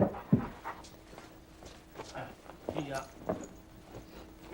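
A dog pants indoors in quick, breathy puffs close by, with a few soft thuds and shuffling, while people talk intermittently.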